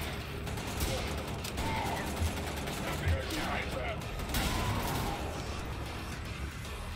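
Gunfire from the Wolfenstein video game, fought against Nazi zombies with a stubby gun. Scattered shots and clanking weapon mechanics stay fairly quiet under a dense, noisy game mix, with a few sharper reports standing out.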